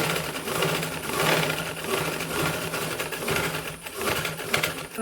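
A sewing machine runs close up while stitching a small fabric mobile pouch, a loud steady mechanical whir with rapid needle chatter and slight speed changes, no talking.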